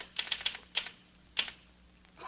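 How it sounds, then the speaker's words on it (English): Crisp typewriter keystrokes clack in a short, uneven burst of about six strikes, with pauses between them, fairly close and otherwise quiet. "I can type and listen. I'm typing while I'm talking to you, aren't I?"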